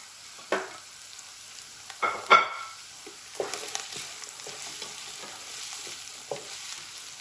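Capsicum and green chillies are stir-fried for chicken fried rice: sharp scrapes and clatters of a spatula against the pan stand out over a soft, constant sizzle, in irregular bursts with no speech.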